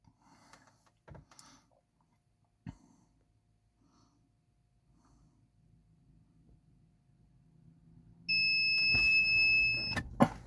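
Steady electronic beeps from a diagnostic tool plugged into a car's data link connector to reset the service indicator, sounding near the end over a low hum after faint knocks and rustles.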